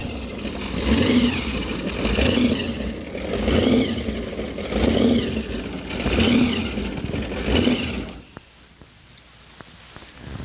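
Hot rod car engine at a rod run, revved hard in five rhythmic surging pulses about every 1.3 seconds, loud and close, then dropping to a low idle with a few faint clicks.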